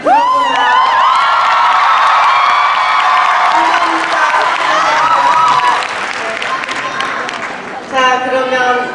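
A large crowd at a Korean film awards ceremony, the 33rd Blue Dragon Film Awards, cheers, screams and applauds loudly throughout, with high-pitched shouts over dense clapping and a fresh burst of screaming near the end.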